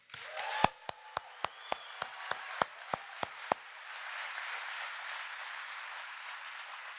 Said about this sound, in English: I think we should give another round of applause for the president to come out here to Poughkeepsie